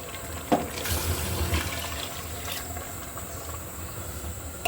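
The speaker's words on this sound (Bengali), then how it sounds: "এবার আমি পানি দিয়ে দিচ্ছি" A large bowl of water poured into a pot of beef and chana dal curry, heard as a steady close splashing hiss with a faint clink at the start and end, no talk.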